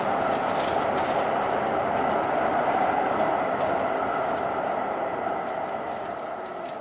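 Train carriage rolling along the rails with a steady, fairly quiet rumble and faint clatter, heard from inside, the noise easing slightly toward the end.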